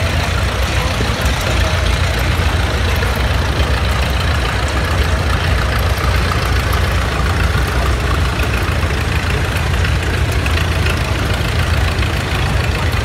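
A vintage Nielsen tractor with big rear traction wheels rolls past in a threshermen's reunion parade, its engine a steady, loud low rumble running continuously throughout under outdoor crowd noise.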